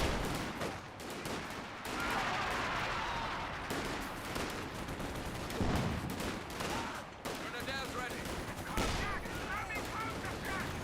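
Rifle squad gunfire in the strategy video game Company of Heroes 2, with rapid bursts and scattered shots crackling through a dense battle mix, with continuous talk over it.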